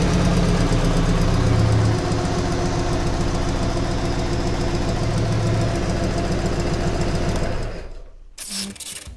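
A Soviet K-750/M-72 motorcycle boxer engine with fuel injection idles at about 850 rpm, a loud, close, steady rapid knocking chug that fades out near the end.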